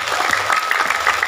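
An audience at a stage event in Cibodas breaks into brisk, dense clapping, loud and close, sustained through the whole short burst with a faint murmur of the crowd underneath.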